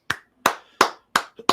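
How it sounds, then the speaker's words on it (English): Five sharp, evenly spaced hand claps from a single person, close and crisp, given to a podcast guest. "We'll give you a few claps for that."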